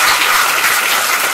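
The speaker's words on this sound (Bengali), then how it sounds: "একটু হাততালিতে আশীর্বাদ পেতে পারি?" A short, loud burst of dense audience applause fills the hall at a motivational talk, with many hands clapping at once.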